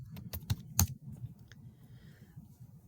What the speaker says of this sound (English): now I type painted lady butterfly